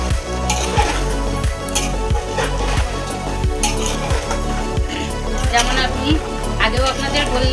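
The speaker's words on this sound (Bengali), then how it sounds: "এবার আমি ক্যাপসিকাম আর টমেটো দিয়ে দেবো।" Capsicum and tomato sizzle loudly in a hot pan with reddened fried onion while a spatula scrapes and stirs in a steady, regular rhythm.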